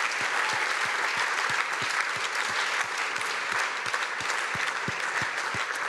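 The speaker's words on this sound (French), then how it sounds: "Et je vous demande de les applaudir." Steady, dense audience applause fills a hall at the closing session of a summer conference on the economy, continuous and fairly loud for the full stretch with no voices standing out.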